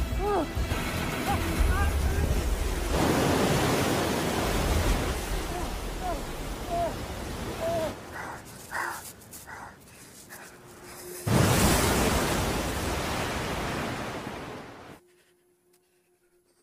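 Ocean waves roar and surge in a broad, rushing wash while a voice narrates over them, then the surf cuts off abruptly into near silence.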